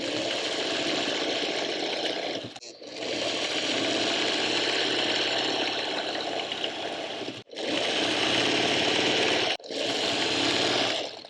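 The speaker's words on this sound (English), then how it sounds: "And then I'll go and sew this with 1/4 of an inch." A sewing machine runs in long bursts stitching a quarter-inch seam through quilt fabric, a loud close steady whir with brief pauses between runs, no talking.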